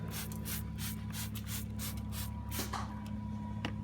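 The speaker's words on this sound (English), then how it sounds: "we're just going to spray the tire liberally with this dish soap" A steady, close spray hiss of dish soap sprayed onto a car tire runs throughout, with a faint rubbing undertone and a couple of brief clicks near the end.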